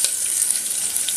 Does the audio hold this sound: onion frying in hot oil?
yes